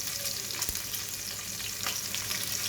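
Chicken pieces searing in a hot pan give a steady, close sizzle with crackling hiss throughout, broken by a sharp clatter or tap near the start and another faint knock later, with no voices.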